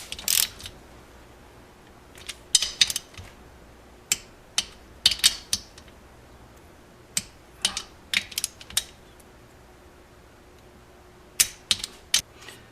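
A ratchet tightens the cylinder head bolts on a 1973 Honda CB750 custom build, close sharp bursts of clicking separated by pauses, with a few quick runs of clicks between quieter moments and no talking.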